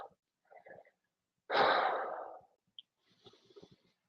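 Slow, audible breathing during a yoga stretch for runners: a long, loud breathy exhale stands alone in a quiet room, with a few softer breaths before and after.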